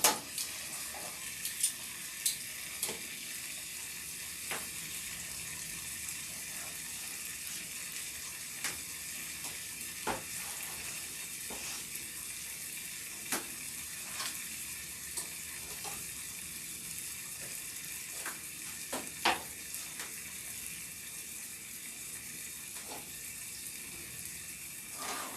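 Meat frying in a pan on lowered heat, giving a long steady sizzle with scattered small pops and crackles, close and moderately quiet throughout.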